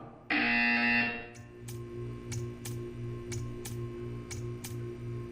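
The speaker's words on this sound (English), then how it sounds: "You will hear a buzzer." A loud electronic buzzer in Portal 2 blares for about a second, followed by a steady ticking rhythm over a low hum.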